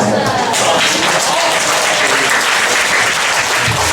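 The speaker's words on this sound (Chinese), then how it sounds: "掌声给他们2位弟兄一下" Steady, dense applause from an audience for two brothers in a church gathering fills the whole stretch at a loud, even level with no break.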